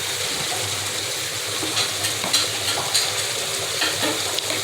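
Onions and chilies frying in oil rendered from fish, with whole cumin added, a steady loud sizzle with occasional scraping stirs close by.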